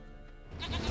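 In the video game The Witcher 3: Wild Hunt, a goat gives a single short bleat that bursts out fairly loudly after about half a second of quiet game ambience.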